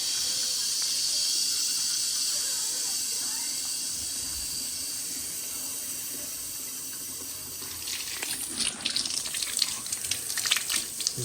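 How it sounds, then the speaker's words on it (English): Gloved hands being washed with soap under a running tap, a steady hiss of flowing water that gives way to louder splashing and rubbing near the end, no talking. "This is how you wash your hands."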